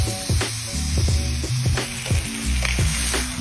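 Keto food fries in a hot pan with a loud continuous sizzle, broken by repeated low thuds and scrapes of a utensil in an uneven rhythm, close up with no voices.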